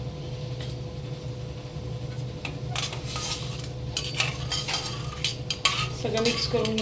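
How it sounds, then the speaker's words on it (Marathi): Water, salt and ghee are mixed in a pot for modak dough, with a spoon scraping and clinking against the metal in irregular bursts over a low background hum, growing busier toward the end. "सगळं मिक्स करून घेणार आपण"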